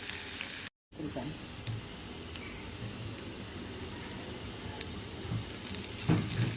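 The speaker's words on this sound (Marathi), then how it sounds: "कांदा भाजून घेऊ आपण थोड्याशा तेलावर" Onion frying in a little oil in a home kitchen pan, a steady soft sizzle and hiss running throughout, briefly cut out near the start, with faint background noise.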